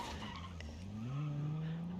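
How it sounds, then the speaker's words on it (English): A rally car in BeamNG's Utah Rally stage slides sideways, tires squealing with a rising, sustained skid tone over a steady engine drone. "They've got the car really sideways, and they've lost the rear end once again."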